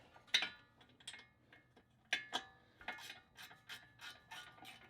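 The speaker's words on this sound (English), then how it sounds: "So I got a 19mm socket. Just gonna go ahead and pop those bolts off." Ratchet with a 19mm socket loosening brake caliper bolts on a Subaru STi, quiet scattered clicks and short ratcheting strokes with gaps between, close but faint, and no talking.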